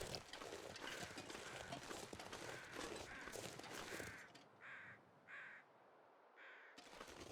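Several crows caw in a game's snowy wilderness in The Long Dark, harsh calls repeating over a dense ambient bed, then a few isolated caws standing out in near silence toward the end.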